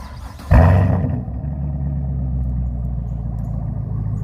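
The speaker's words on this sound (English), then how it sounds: "let's give it a nice little cold start" A Chevrolet Camaro ZL1 engine cranks on a cold start and fires with a sudden loud roar, then settles into a steady, rumbling idle close by.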